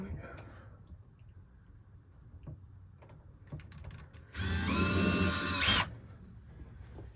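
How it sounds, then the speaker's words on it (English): A brief burst of a power drill whirring at high speed for about a second and a half, drilling pilot holes in a thin board in a motorhome, preceded by faint clicks and handling noises. "I'm going to drill some pilot holes now, just a little bit to get started"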